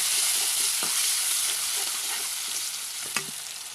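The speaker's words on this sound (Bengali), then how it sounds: "উঠে এক্সট্রা আর কোনো তেল দেবো না, সেই তেলের মধ্যেই দিয়ে দিব পেঁয়াজ কাটা" Chopped onions frying in leftover fish oil give a steady, close, loud sizzling hiss, with a few soft spatula scrapes and one sharper clink near the end.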